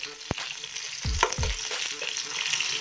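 Cumin, chilli and onion hit hot oil in a pan, giving a soft steady sizzle with a few sharp clinks and scraping stirs near the middle, heard up close with no talking.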